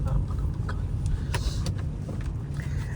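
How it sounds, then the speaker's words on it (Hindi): A car moves along a nearby road, its steady low engine and tyre rumble close and fairly loud throughout, with small clicks and rattles on top. "अभी गाड़ी आ रही है इधर से"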